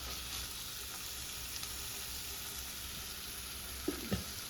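Onions with salt sauté in a pan for a Kerala-style dish, giving a steady, soft sizzle throughout with a couple of faint clinks near the end.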